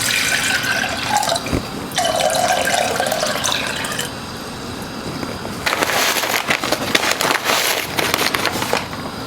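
Four cups of water are poured into a pot to make Thai tea, with a steady splashing stream in several bursts separated by brief pauses. The sound is close and fairly loud.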